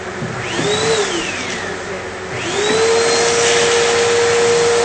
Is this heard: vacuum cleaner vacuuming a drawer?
yes